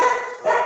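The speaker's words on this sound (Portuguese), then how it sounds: "Olha a cachorrada aí." Dogs bark twice in quick succession, two short and fairly loud bursts that form the whole brief moment.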